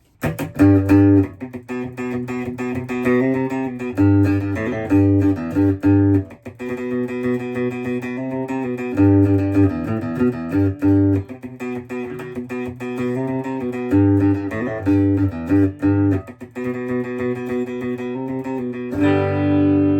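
A distorted Fender Starcaster electric guitar plays a steady run of chords and notes, loud and close, with brief pauses between phrases and no voices.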